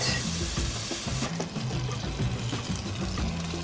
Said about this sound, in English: now we're gonna go add butter on the pan, and we're gonna fry it each side for about 5 minutes